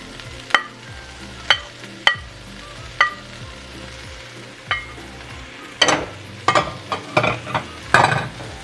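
Spinach stirred in a hot frying pan with garlic, a steady sizzle under repeated scraping strokes of a utensil, growing busier toward the end, close and with no talk.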